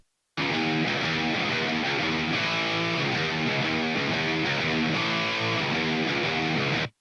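Reamped distorted electric guitar plays a steady chugging riff with chords, dense and loud throughout, no voices.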